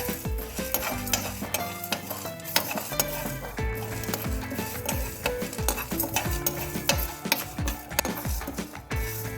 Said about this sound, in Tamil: உளுந்து கடலைப்பருப்பு இது எல்லாத்தையும் நல்லா ஃப்ரை பண்ணிக்கலாம்